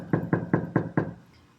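Five quick, evenly spaced knocks land on a dorm room door during residence life rounds, loud and close, followed by a brief fading echo and quiet.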